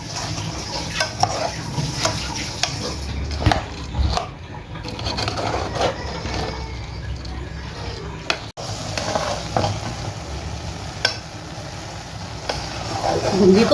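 Chopped dry fruit is stirred into sugar syrup in a pan while making boondi ladoo, with soft scraping and clinking of a spoon against the pan under continuous talking.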